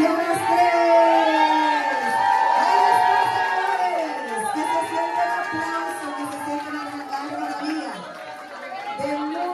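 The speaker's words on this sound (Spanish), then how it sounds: "Fuerte el aplauso para nuestra comunidad y para cada uno de ustedes" A crowd at a Dominican Chamber of Commerce USA launch celebration erupts in cheers, whoops and shouting voices, loud and lively, with excited chatter continuing as the noise gradually eases.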